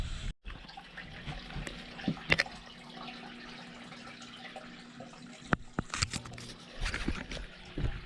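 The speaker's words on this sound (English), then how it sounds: "We drain the tank." Water draining out of an outdoor aquarium tank, a steady low trickling rush running throughout, with a few brief splashes and clunks standing out near the start and toward the end.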